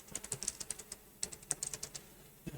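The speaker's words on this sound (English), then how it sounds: "It helps if you type" Fast typing on a computer keyboard, a close run of crisp clicking keystrokes in uneven bursts with brief pauses, no voices.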